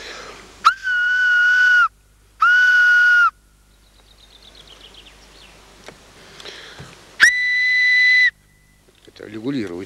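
A reedy, buzzing handmade grass whistle sounds in three long, steady blasts, separated by pauses with soft rustling and faint noises.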